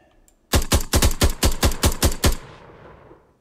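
A turret in an Unreal Engine 5 tower defense game fires a burst of about ten sharp, evenly spaced shots that end with a fading tail, loud and close with no talk.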